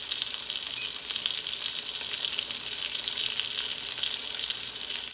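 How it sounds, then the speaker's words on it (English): Salmon searing in a skillet, a steady bright hiss of hot oil that stays loud and even from start to finish with no talking. "I'm gonna saute this or let this sear, everyone, for about 5 minutes on each side."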